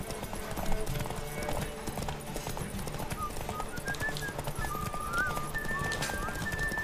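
Horse hooves clip-clopping at a steady gallop in The Witcher 3 video game, with occasional whinnies and faint whistling tones over continuous rumbling background.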